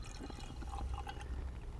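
Gasoline drained from the carburetor float bowl of a Honda CB400 Hawk motorcycle is poured out in a soft, close trickle with faint drips, quiet and continuous for under two seconds.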